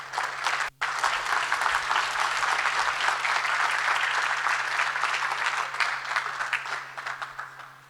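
An audience at an international mechanical engineering congress applauds a speaker, sustained and fairly loud clapping from a large crowd that starts abruptly and tapers slightly toward the end.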